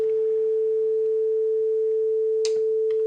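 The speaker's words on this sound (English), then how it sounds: "this is going to be primarily based around sine waves" A steady pure sine tone, synthesized in Reaper, holds at one pitch throughout, loud and unwavering, with a few faint clicks near the end.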